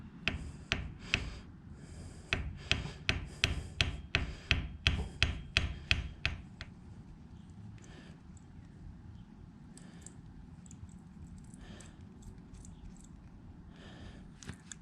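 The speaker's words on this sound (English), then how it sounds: "I'm swinging a hammer toward my new bike." Hammer tapping on a part of a new Harley-Davidson Lowrider ST, a quick run of sharp, close, evenly spaced taps for several seconds, then sparser, quieter knocks over a low background hum.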